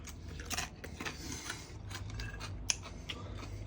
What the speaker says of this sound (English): Has a good crunch.